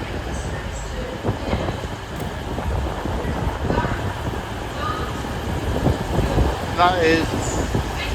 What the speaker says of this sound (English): Train at platform 3 is the 1638 cross country service to